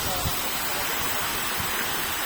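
A waterfall in Candijay, Bohol, pours out a dense, unbroken roar of rushing water, loud and close throughout with a faint low rumble underneath.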